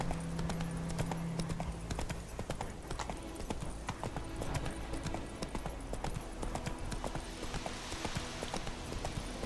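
Roach the horse's hooves clip-clop in a fast, steady galloping rhythm across the Witcher 3 game world, continuous and fairly quiet, with no speech over it.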